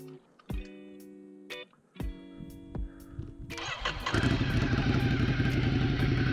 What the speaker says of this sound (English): I'm gonna get the bike going.